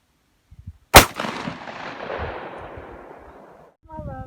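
A 30-30 rifle is fired outdoors: one loud, sharp crack with a long echo that rolls away. Soft thumps come just before the shot, and faint voices follow it.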